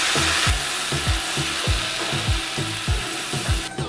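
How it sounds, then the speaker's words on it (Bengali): Onion paste fries in hot oil in a pan with a constant sizzle, while a spatula scrapes through it in steady, rhythmic strokes about twice a second. "পেঁয়াজটা ভাজা হয়ে গেছে"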